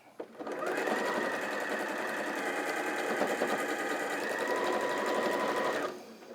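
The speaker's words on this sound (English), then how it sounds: "So I'm going to sew straight over that again." A sewing machine runs steadily for about five seconds, stitching straight over fabric in a single continuous whirring burst that starts and stops cleanly, close and alone.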